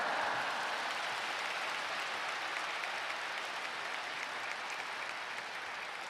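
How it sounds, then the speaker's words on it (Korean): Congregation applauding steadily in a large church as a guest preacher takes the stage for a testimony sermon, a dense even wash of many hands lasting the whole stretch with no voices on top. "뜨거운 박수로 우리 맞이하겠습니다"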